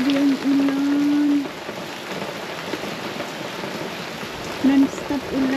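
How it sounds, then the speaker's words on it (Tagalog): Non-stop heavy rain falls in a New Zealand forest, a loud, unbroken wash of drops, with a few short vocal sounds over it at the start and near the end. "Non-stop ulan."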